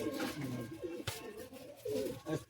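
Pigeons in a loft coo softly in repeated low, throaty phrases, several birds overlapping close by, with a brief sharp knock midway.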